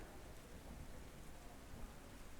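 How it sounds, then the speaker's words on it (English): A thunderstorm ambient track plays steady, dense rain hiss with a low rolling rumble of thunder underneath, continuous and even throughout. "I like the clean thunderstorm"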